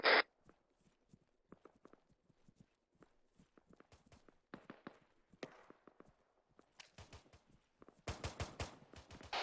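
Gunfire in the Arma 3 video game: scattered distant shots, then denser rapid bursts building toward the end, mostly faint with occasional louder cracks.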